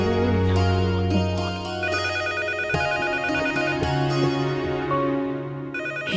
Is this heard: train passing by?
no